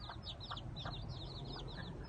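Chickens on a rural farm squawking and clucking in quick, repeated bursts, fairly faint over a low background hum with no talk.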